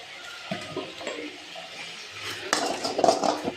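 A spoon stirring and mixing food in a cooking pan, with a few soft scrapes at first, then louder clattering metal scrapes and knocks toward the end, close by and with no talking.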